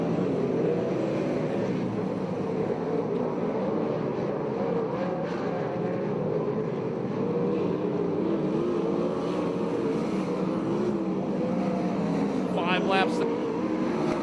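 USAC/CRA sprint car engines racing around a dirt track, a continuous loud droning roar that rises and falls as the cars circle, heard from a distance.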